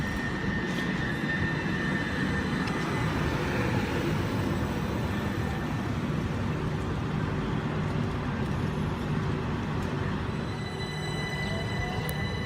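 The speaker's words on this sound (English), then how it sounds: "Dover Priory train now departing Ashford International, platform number 5" Southeastern class 375 electric train, unit 375623, pulls out of platform 5 at Ashford International bound for Dover Priory, a steady broadband rumble and whine with faint tonal hums from traction motors, close by and continuous.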